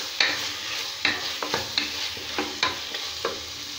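Tomatoes sautéed in a pan for mushroom biryani, an even sizzle punctuated by regular sharp scraping strokes of a spatula roughly every half second, close and clear with no talking.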